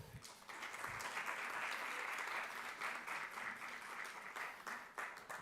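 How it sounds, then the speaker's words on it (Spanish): Strong, sustained applause from a seminar audience welcoming panel members at a podcast panel of an influencer summit, a dense steady wash of many hands clapping together, full and close for several seconds before tapering slightly. "Un fuerte aplauso para ellos, por favor."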